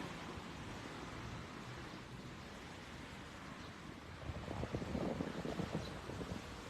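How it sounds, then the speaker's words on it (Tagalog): Strong wind in Atami, Japan buffets the microphone with a continuous rushing roar, gusting a bit harder toward the end, with no voices. "Malakas pa rin yung hangin."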